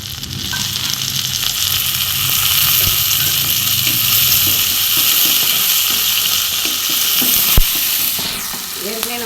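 Chopped tomatoes sizzle and fry with sautéed onions in a pan for a Tamil-style bean and brinjal curry, a steady close hiss and crackle throughout with occasional stirring clinks and no talk.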